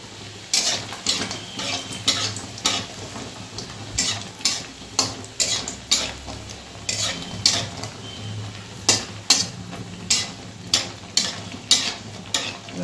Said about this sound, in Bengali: এদিকে দেখো তেলটাও গরম হয়ে গেছে চলো বড়িগুলোকে আগে ভেজে তুলে নিই